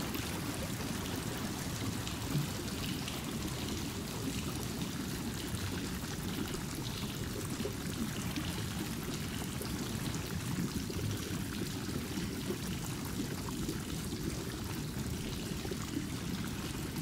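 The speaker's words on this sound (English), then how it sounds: "you can watch the water drain, which is really cool" Water draining away in the video game LotR Return to Moria, a steady rushing and pouring stream that runs evenly throughout, fairly soft and unbroken.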